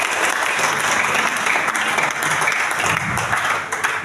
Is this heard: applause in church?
yes